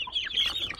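Heritage breed chickens cluck in quick, high, overlapping calls, close and moderately loud in a short burst.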